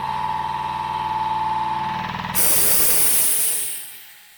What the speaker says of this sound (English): That air compressor's so rude.